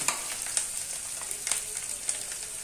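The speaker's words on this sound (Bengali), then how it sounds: "দিয়ে একটু ভেজে নিচ্ছি।" Banana flower with tomato frying in a pan, a steady sizzle with a few sharp crackles and stir clicks, close and alone with no talking.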